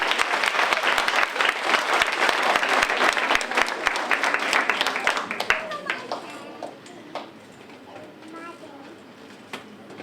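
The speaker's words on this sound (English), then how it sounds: "Round of applause there." An audience at a school creative arts evening bursts into loud, dense applause after a card trick. The clapping is close and sustained, then thins to scattered claps and fades.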